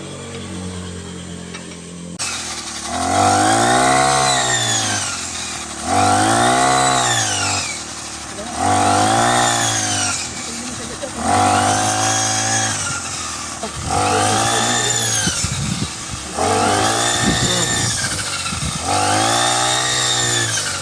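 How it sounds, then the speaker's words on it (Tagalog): An RC402 brush cutter fitted with a rice-harvesting blade revs in repeated bursts, roughly every two seconds, its two-stroke engine rising to a loud whine and dropping back between cuts, close and with no talk. "Maganda ka farmer itong grass cutter na nilagyan ng blade na pang harvest, pang gapas."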